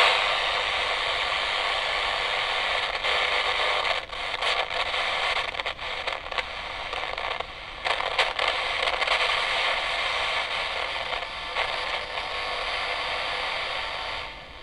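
An AM radio held near a Colpitts oscillator circuit while its tuning is swept puts out a steady hiss of broadband static with crackles, dropouts and faint scraping bursts, continuous and fairly quiet, with no voices.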